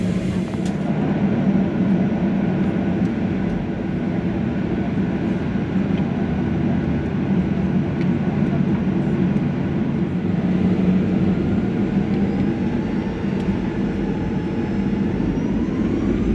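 Inside the cabin of a Virgin Australia Boeing 737-800 before takeoff, a steady low hum of engines and air systems drones on evenly and fairly loudly throughout, with no voices heard.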